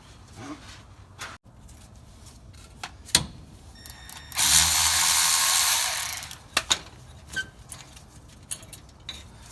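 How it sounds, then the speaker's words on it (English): An 8mm socket on a power tool runs in one steady burst, loud and close, while removing a bracket on the rear differential of a 2004-or-later Nissan Titan, with scattered clicks and clanks of tools before and after. "you're going to use an 8mm socket to remove this bracket right here"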